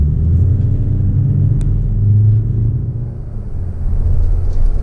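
A 2019 Chevy Colorado ZR2 pickup's four-cylinder Duramax diesel engine rumbles and pulls as it accelerates, a deep low drone rising and falling slightly, close by and loud.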